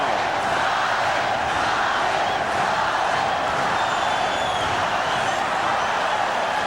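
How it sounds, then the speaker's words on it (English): Dense, roaring crowd noise from a packed boxing arena during a Chavez versus Taylor fight, a steady loud wash of cheering and yelling with no pauses, close and enveloping throughout. "Listen to this crowd"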